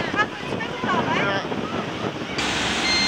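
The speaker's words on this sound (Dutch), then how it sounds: "Het begint te waaien." Wind picks up as a rain shower approaches on a walk in Thailand, a steady rushing gust buffeting the microphone with a brief swell near the end, while voices talk faintly beneath.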